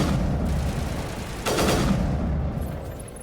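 Loud, dense gunfire fills a firefight in Mass Effect Legendary Edition, a continuous rattling barrage that surges again midway, with no voices.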